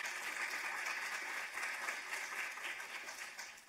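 An audience applauds at a community neighborhood conversation event, a dense, steady wash of many hands clapping together, heard from a moderate distance and sustained throughout before thinning slightly at the end.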